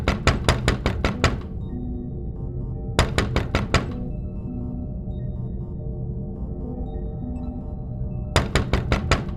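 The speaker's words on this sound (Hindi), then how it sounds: "अचानक उसे खटखटाने की आवाज सुनाई थी। ऐसा लगा कि कोई नॉक कर रहा है उसके दरवाजे पर।" Sound-effect knocking on a door: three bursts of about half a dozen quick, hard raps each, separated by pauses, over a steady low musical drone.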